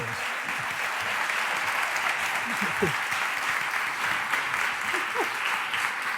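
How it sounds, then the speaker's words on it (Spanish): Audience applause for author Fernando Aramburu on a book talk show, a continuous even wash of clapping at moderate level, with faint voices underneath. "vamos a hacerle pasar un aplauso a para Fernando Aramburu"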